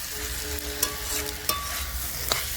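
A vegetable chochchori of potato, beans, eggplant, onion and green chillies sizzles steadily on a stove, a constant close hiss with a few faint clicks and ticks scattered through it.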